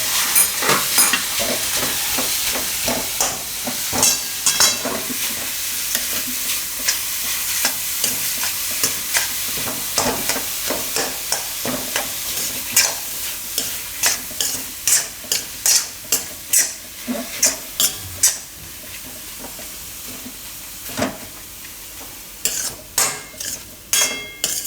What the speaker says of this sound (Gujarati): આમાં આપણે નાખી દઉં આ ગાજર છીણેલો. અને મિક્સ કરી લેવું.